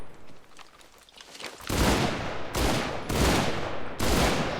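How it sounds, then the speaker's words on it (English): Short controlled bursts from a submachine gun in the World War II shooter Enlisted, several loud rapid-fire volleys separated by brief pauses, close and punchy with no talking over them. "you can burst fire this"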